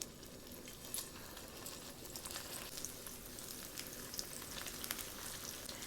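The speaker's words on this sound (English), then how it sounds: "now I'm going to shallow fry these burgers" Black bean and chickpea veggie burger patties shallow frying in hot oil, a soft, steady sizzle with scattered tiny crackles, fairly quiet and continuous with no talking.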